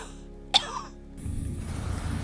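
A single sharp cough from a narrator in a spoken thriller story, heard near and alone, followed by a steady low background hum.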